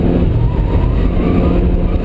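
Subaru Forester S with automatic transmission accelerating hard on a race track, heard as a loud, steady engine drone from close by with no talking.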